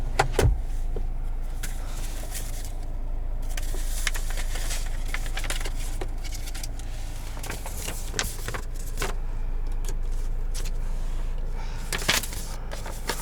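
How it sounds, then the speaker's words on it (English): Power windows of a 2020 Buick Envision Premium whir up and down inside the cabin, a low motor drone punctuated by clicks and thumps as the glass stops, steady over several cycles. "Automatic windows."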